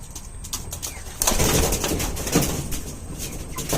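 Pigeons kept by a Bangladeshi breeder, including black and green racers, coo softly in a loft, with a louder burst of cooing and fluttering activity partway through over steady background noise.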